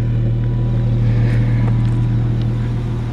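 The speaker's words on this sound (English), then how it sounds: "it just purrs like a kitten. You just heard the engine back there." A 1959 Studebaker Lark VI engine idles in a steady, low rumble nearby, smooth and continuous, with no voices.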